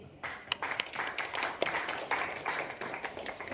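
An audience at a Marathi television show's press launch applauds, a brief burst of scattered claps rising quickly and continuing steadily at moderate loudness for a few seconds.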